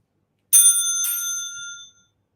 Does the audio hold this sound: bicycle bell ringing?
yes